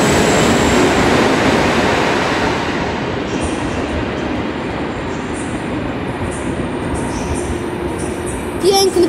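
An Intercity passenger train hauled by an EP07 electric locomotive rolls through Wrocław Główny station, a loud continuous rumble of wagons and wheels with faint squeals, heard close by without talk.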